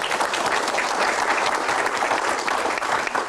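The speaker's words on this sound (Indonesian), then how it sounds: "Tepuk tangan." Audience applause at a Q&A session about Bahlil Lahadalia's childhood: steady, dense clapping from a large crowd filling the whole clip at an even, fairly loud level.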